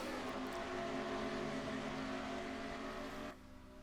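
Race cars circle Indianapolis Motor Speedway in a racing video game, a dense, steady engine drone from a pack of cars, fairly faint and continuous, dropping off abruptly near the end.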